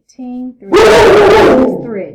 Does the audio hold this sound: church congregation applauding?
no